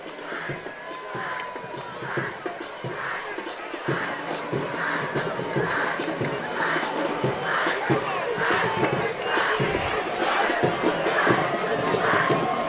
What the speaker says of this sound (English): You hear Moss Point's fans booing